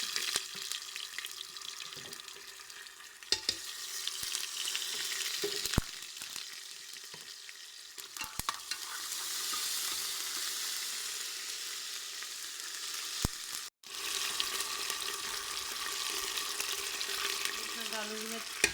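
Ginger garlic paste and cumin fry in desi ghee with onions in a pan, a continuous close sizzle broken by sharp clatters of stirring and a brief pause.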